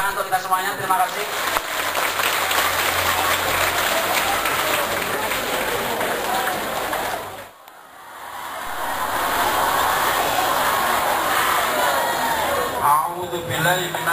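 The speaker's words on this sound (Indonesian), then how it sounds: "Tepuk tangan untuk kita semuanya" A large crowd at a junior high school anniversary event in Wlingi, Blitar claps loudly and continuously, the dense applause dropping briefly before rising again, with an announcer's voice over it.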